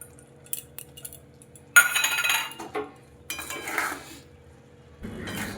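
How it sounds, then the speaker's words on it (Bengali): A spoon scrapes and clinks against a pan while spices are stirred into a starfruit pickle, with a few irregular metallic bursts of scraping and tapping close by over a quiet background. "আচারের সঙ্গে মশলাটা খুব ভালোভাবে মিশিয়ে নেব।"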